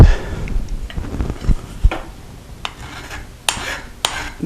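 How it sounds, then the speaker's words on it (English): A hand file rasps across a clamped piece of copper in a series of short, uneven scraping strokes close by, with scattered knocks and clinks of metal between them. "I'll take it out, and I gotta file it"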